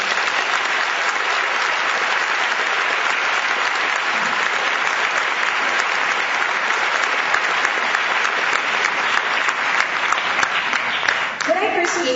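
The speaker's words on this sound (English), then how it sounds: "Fellow graduates, let's give our parents and friends a warm round of applause." Graduates at a university commencement give their parents and friends a long, sustained round of applause, dense and loud clapping from a large crowd that holds steady for over ten seconds before a brief voice emerges at the very end.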